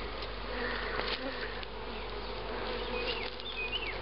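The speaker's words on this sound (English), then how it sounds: "Any bees we lost in the air are now trying to get back in." Honey bees buzz around a beehive, a dense, steady hum of many insects close by with no talk.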